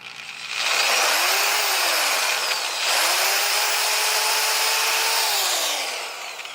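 A power drill spins up twice, whining loudly as it grinds a hole larger during a Nissan 350Z clutch master cylinder install, with a brief dip in pitch between the two bursts.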